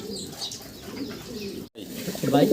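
Large black Lahori pigeons cooing in a steady low murmur, with soft overlapping calls, a brief gap, then louder, closer coos at the end.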